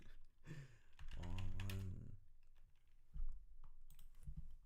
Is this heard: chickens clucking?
no